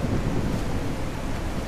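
Rain and wind wash steadily through Grocery Store Simulator, a dense, even hiss with a low rumble like distant thunder underneath, with no voices.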